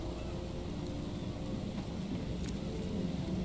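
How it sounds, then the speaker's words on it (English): Steady rain in The Sinking City video game, a dense, even wash of falling water with a low rumbling bed, constant and moderately quiet across the whole stretch. "I like this rain though."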